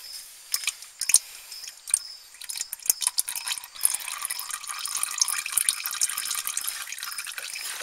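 Used engine oil drains out of a car into a bucket in a home garage: a faint, uneven trickle and patter of liquid with scattered small drips and splashes, heard alone at close range.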